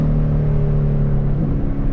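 A Ford Mustang GT with a 10-speed transmission drives at night, its engine producing a deep, steady, close droning rumble with a slight pitch shift near the end, heard from inside the car.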